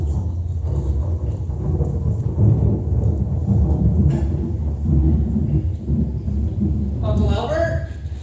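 Staged rain and thunderstorm effect for a stage play, a steady loud wash of rain with low rolling thunder rumbles throughout, a sharper crack near the end.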